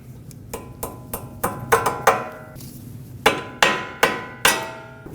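Sharp metallic taps from hammering a cotter pin over on a tie rod end of a Toyota Corolla ring out up close, about a dozen ringing strikes in two uneven bursts.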